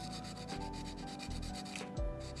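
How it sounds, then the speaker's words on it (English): Sandpaper rubbing steadily against a 3D-printed Umbreon model, a close, continuous dry scratching with repeated back-and-forth strokes and no talking. "there's gonna be a decent amount of sanding sound"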